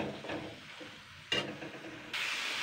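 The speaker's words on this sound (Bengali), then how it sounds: "ভালো করে নেড়ে চেড়ে নেবো কিন্তু আগে" Boiled tomatoes and onion greens stirred in a hot pan with a spatula, soft scraping and gentle sizzling up close, with brief louder scrapes as the mash is turned over.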